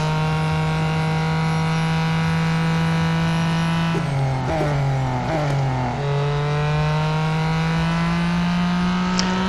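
Race car in Real Racing 3, an IMSA GTD 2018 machine at Mount Panorama, its engine droning loud and steady, dipping briefly through quick gear changes before pulling hard again uphill.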